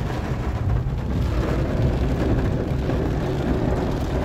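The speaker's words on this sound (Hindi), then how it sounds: "कितनी तेज़ बारिश हो रही है।" Heavy monsoon rain pours over a residential colony in Bareilly, India. It makes a continuous broadband hiss with low rumbling underneath and stays loud and even for the whole few seconds.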